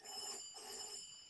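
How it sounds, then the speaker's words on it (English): A house telephone rings faintly in the background, a thin electronic trill sounding through a quiet room with no talking. "Sorry, that's my phone going. My house phone."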